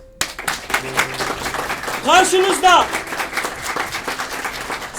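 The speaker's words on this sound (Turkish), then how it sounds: "Şimdi güçlü alkışlarla" Audience applause at a year-end children's theatre course show, clapping swelling behind a presenter's voice, with a cheer of voices rising in the middle before the clapping continues.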